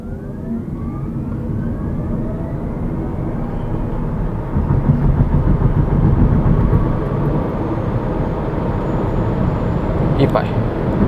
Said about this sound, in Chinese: 来 Sport Mode 0-100加速测试